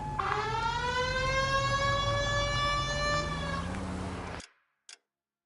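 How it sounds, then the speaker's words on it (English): A police car siren in LA Noire wails in one long, steady rising tone for about four seconds, loud and close, then cuts off abruptly, followed by a brief click. "we got a siren, Phelps."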